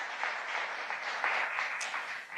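Audience applause at a U.S.-Africa Leaders Summit event, a faint, distant patter of steady clapping lasting a couple of seconds.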